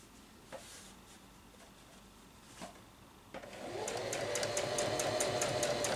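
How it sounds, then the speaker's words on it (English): A sewing machine starts up and runs steadily, stitching close along the folded top edge of fabric, a continuous whirring hum after a few soft clicks. "Now I'm going to stitch close to the top"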